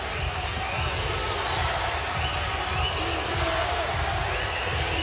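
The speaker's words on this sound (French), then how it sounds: "Écoutez cette foule tenter d'inspirer l'Alliance en défensive." A basketball arena crowd cheers on the Montreal Alliance on defence against the Saskatchewan Rattlers. The steady, dense roar of voices is laced with shouts and ball bounces, with commentators' speech partly mixed in.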